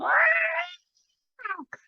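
A cat meows outside a window: one long, clear, drawn-out meow, then after a pause two shorter, quieter mews, with no other sound.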